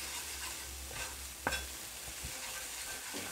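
Tunisian ojja with spices being stirred in a pan over medium heat, a continuous close sizzle with one sharp scrape of the utensil in the middle, no voices.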